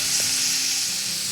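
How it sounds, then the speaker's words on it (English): Vegetables for a zucchini lasagna sizzle steadily in a hot pan, a loud, dense, continuous frying hiss with no voices. "I'm going to do the same to my veggies, which I've added to the nice hot pan so they can soften and absorb all that flavor"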